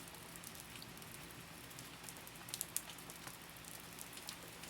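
Soft steady rain patters on a surface, faint and even throughout, with scattered sharper drips standing out here and there and no voices.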